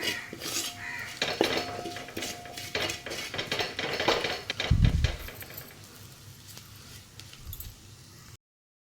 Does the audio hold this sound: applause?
no